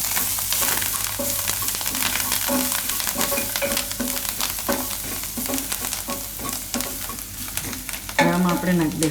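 Spoon stirring Maggi masala and fresh coriander into a mung dal mixture in a hot pan, steady scraping strokes over a soft sizzle, close and alone.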